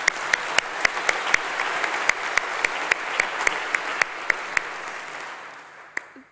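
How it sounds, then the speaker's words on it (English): An audience at a summer graduation congregation ceremony claps steadily in dense, sustained applause, with a few sharper claps standing out before it fades away. "all of those mentioned do deserve a round of applause"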